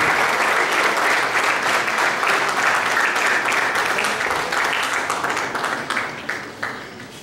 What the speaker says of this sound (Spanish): Pedimos un fuerte aplauso, por favor, a nuestra ponente.